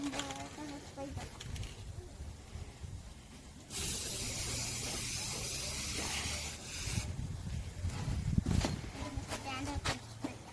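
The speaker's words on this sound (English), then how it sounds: "I'm gonna spray them." Water is sprayed onto a succulent turtle topiary in a steady hiss lasting about three seconds, followed by shorter bursts. Voices talk before and around the spraying.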